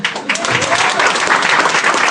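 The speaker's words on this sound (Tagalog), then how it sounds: "Now, yun may pumalakpak isa." Loud, dense clapping from an audience at a business presentation, a continuous wash of hands that is close and sustained, with no voice over it.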